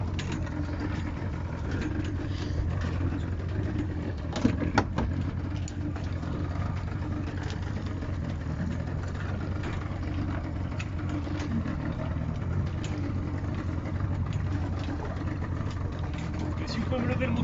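A low, steady outboard boat motor idles close by, a continuous rumbling hum with no changes in pitch.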